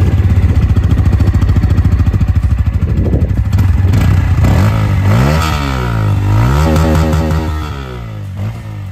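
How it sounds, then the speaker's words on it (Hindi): Bajaj Pulsar N160 motorcycle exhaust, loud and close, holding a steady idle burble before revving up and down in several rising and falling sweeps, with no talk over it. "N160 का एग्जॉस्ट साउंड थोड़ा सा बेहतर है,"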